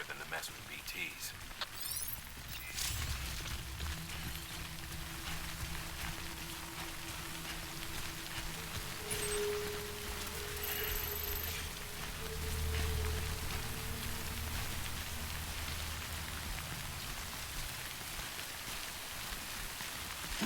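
Steady rain falls in the video game Death Stranding, a continuous even hiss that carries through the whole stretch, with game voices and effects over it.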